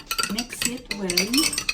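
A spoon stirs an apple cider vinegar, lemon and honey drink in a glass, giving a series of close, quick clinks and scrapes in short bursts.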